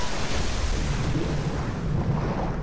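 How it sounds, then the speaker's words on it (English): Broad, steady rushing of water and surf in the video game Tomb Raider fills the short clip, loud and close, with a low churning rumble and no voices. "Lots of water noise"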